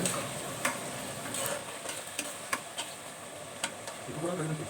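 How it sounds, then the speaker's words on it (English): Mango pickle is stirred through hot oil over a low flame, giving a steady soft sizzle broken by light, irregular clicks and scrapes of the spoon against the pan. "Mix well into the oil in light flame. Mix regularly and mix well."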